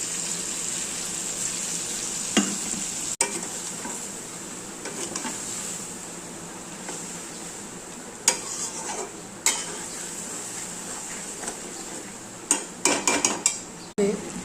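Sesame, cashew and poppy seed paste frying in oil with potatoes and pointed gourd, with steady stirring scrapes and sharp clinks of a utensil against the pan, sparse at first and quickening into a cluster of clatters near the end.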